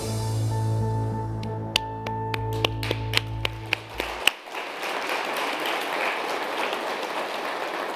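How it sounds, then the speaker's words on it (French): Audience applause at a conference opening ceremony, rising as a broad wash of clapping after a sustained musical tone and a few sharp struck notes cut off, then continuing steadily. "Merci, merci, mesdames, messieurs, pour vos applaudissements."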